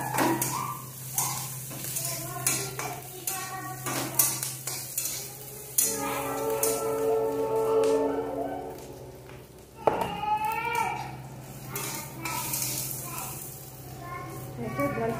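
Kokum frying and being stirred in a pan for a Marathi non-veg thali, with steady sizzling and repeated scraping spoon strokes, while someone talks over the cooking.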